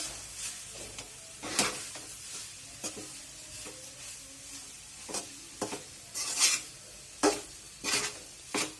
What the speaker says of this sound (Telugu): పుదీనా పేస్ట్ రైస్ మొత్తం కలిసేదాకా నీట్గా కలుపుకోండి.